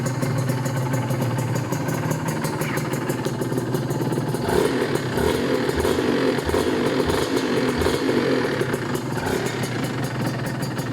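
A Honda NSR150SP motorcycle engine runs steadily and close by, with a rough, clattering idle and slight swells in pitch that suggest gentle revving.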